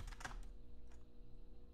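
Quick typing on a computer keyboard, a couple of faint close key clicks in a short, quiet burst.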